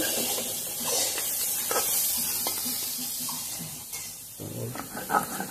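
Pointed gourd (potol) sizzles in a frying pan, a steady soft hiss with occasional stirring scrapes and clinks throughout.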